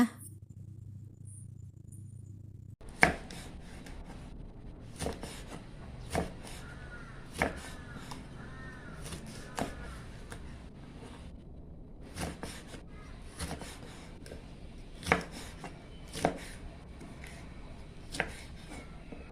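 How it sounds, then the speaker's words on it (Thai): Green and red chilies are chopped with a knife for a fresh bamboo shoot curry. After a short quiet start, crisp, close knife strikes repeat at an uneven, steady pace. "เราก็จะหั่นพริกก่อนเลยค่ะพริกเขียวแดงค่ะ"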